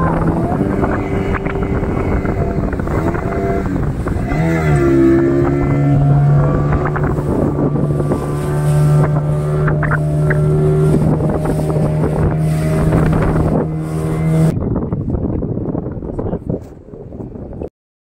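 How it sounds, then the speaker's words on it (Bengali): A speedboat ride near Corbyn's Cove beach in the Andaman Islands runs with a loud, steady motor drone and rushing wind buffeting the microphone, the engine pitch rising partway through before the sound cuts off near the end. "তো আমরা চুজ করলাম স্পিড বোটিং।"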